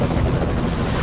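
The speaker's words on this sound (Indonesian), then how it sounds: "Ada helikopter, Anjas." Helicopter in the video game Jet Li: Rise to Honor, a loud, close, continuous rotor roar filling the whole brief moment.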